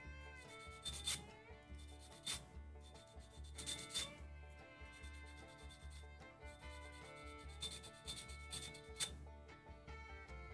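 Sandpaper of 220 grit rubbed by hand across a wooden surface, a steady scratchy rasp with louder bursts over a bed of background tones.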